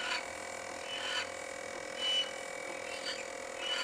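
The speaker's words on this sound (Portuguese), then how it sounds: "Esse barulho é porque a cuba está vibrando." An ultrasonic cleaner tank vibrates in an automotive workshop, giving a steady high electronic hum with a constant tone and soft periodic swells, moderately quiet and unaccompanied.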